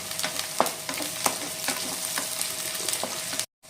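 Chopped onion frying in hot oil in a pan with sugar added to caramelise for a Bengali katla fish kalia, giving a steady close sizzle broken by a few sharp stirring scrapes before cutting off abruptly.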